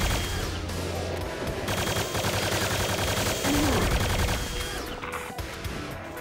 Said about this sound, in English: I just love the Hyper Blaster and its lack of recoil.